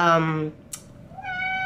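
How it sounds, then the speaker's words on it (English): A cat meows indoors, a couple of clear, close calls with a brief sharp noise between them and no talking over them. "Sorry, that's my cat."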